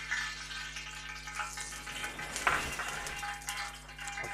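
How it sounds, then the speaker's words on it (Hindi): Cooking oil goes into a pan with chicken for a white karahi, producing a continuous bright sizzle with light scraping and stirring clinks throughout, close up and with no talking. "अब ये मैंने ये कुकिंग ऑयल डाल दिया इसमें।"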